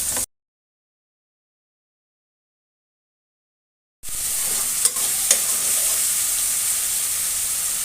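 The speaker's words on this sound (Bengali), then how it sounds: "মশলাটাকে ভালো করে কষিয়ে নেব।" Turmeric-spiced paste for Bengali potato curry (alur dom) frying in a little oil in a pan: steady sizzling and stirring scrapes begin after several seconds of silence and continue alone, with a short burst of frying at the very start.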